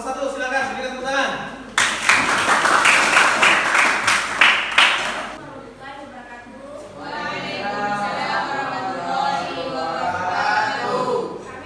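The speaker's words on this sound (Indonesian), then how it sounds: "Silakan berikan tepuk tangan." Classroom audience clapping for a presenting student group, a loud burst of applause that fades after a few seconds and gives way to a speaking voice.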